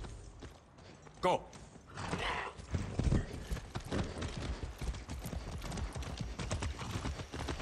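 Horse hooves in Far Cry 6 make a steady rhythmic clip-clop of galloping throughout, with a short shout and game noises over it.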